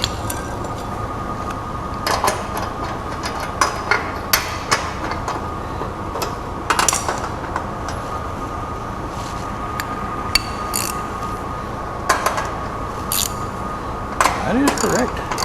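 Ratchet clicking in short bursts while tightening subframe bolts on a 1973 Ford F100, sharp metallic ticks scattered over a steady low background hum, close by.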